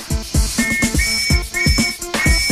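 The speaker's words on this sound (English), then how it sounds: "They test each whistle with compressed air." Metal police whistles tested with compressed air on a production line give a rapid series of short, shrill trilling blasts, loud and close, with mechanical clicks between them.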